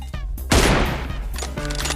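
Gunfire in the mobile battle royale game BGMI, with a loud burst of rapid shots cutting through busy game sound for about two seconds.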